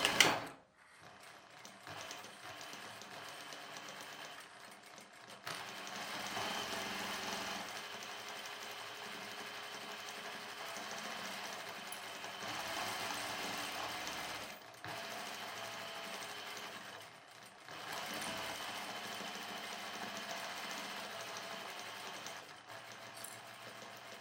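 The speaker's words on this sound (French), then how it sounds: "on va venir piquer tout autour à 1 cm sauf en haut" A sewing machine stitches all around a fabric baby bib about 1 cm from the edge, a steady close motor whir running in long bursts with brief pauses between seams.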